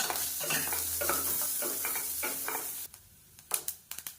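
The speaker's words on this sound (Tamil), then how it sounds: "இதை சேர்த்து நல்லா ப்ரௌன் கலரில் வர அளவுக்கு வறுத்துக்கலாம்" Small cut coconut pieces fry in ghee with a steady close sizzle and repeated stirring scrapes for about three seconds, then the frying drops quieter while a few sharp utensil clinks and knocks ring out near the end.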